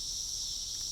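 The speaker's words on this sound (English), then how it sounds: "hear me over the sound of the amazing cicada sound" A dense, continuous high-pitched insect drone fills the air, steady and loud without pause.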